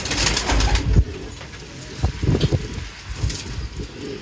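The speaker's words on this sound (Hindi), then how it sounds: "ये बड़ा कबूतर है" A large pigeon coos close by: a few low, throaty coos in short bursts over a faint breezy background, with no talking.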